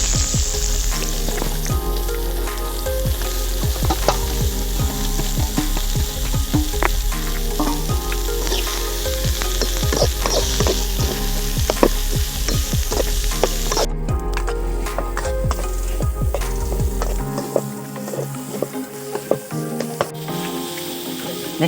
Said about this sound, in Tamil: வெங்காயம் போட்டு ரெண்டுத்தையும் போட்டு வதக்கலாம்.